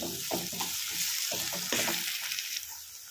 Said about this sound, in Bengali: তো চলো পেঁয়াজটা আমার একটু ভাজা হোক